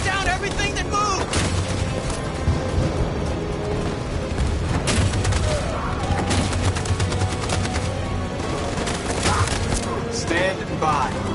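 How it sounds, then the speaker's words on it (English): Machine gun fire in the video game Detroit: Become Human, a loud, dense barrage of shots and impacts running throughout, with voices shouting over the battle noise. "That machine gun is taking down everything that moves!"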